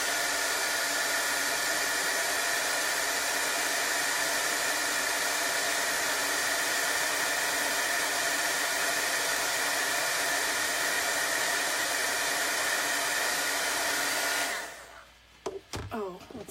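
A hair dryer blows steadily on a chalk transfer flower, a loud, even whooshing hiss held nonstop at close range until it cuts off near the end, followed by faint clicks and handling.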